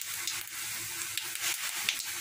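A teaspoon of fennel seeds sizzles in hot oil over a low gas flame while paratha filling is cooked, a close, continuous crackling fry with small pops scattered throughout.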